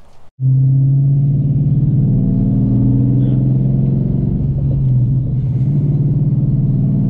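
A Ford Mustang GT V8 with a freshly installed BBK 90mm throttle body idles and runs steadily during break-in driving, a loud, even low rumble that starts abruptly after a brief gap and holds without talk.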